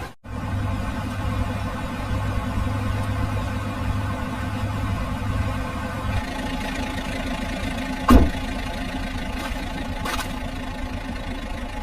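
A car engine idles steadily with a low, constant rumble, shifting slightly partway through, with a brief sharper knock near the end.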